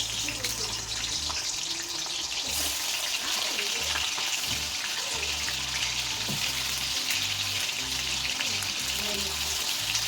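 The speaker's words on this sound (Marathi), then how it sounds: "ह्या तेलामध्ये मी पनीर फ्राय करून घेणार आहे. छान असं तळून घेणार आहे पनीर" Paneer fries in hot oil with a steady, dense sizzle that runs throughout, close and loud, with occasional low thumps and clatter from the kitchen underneath.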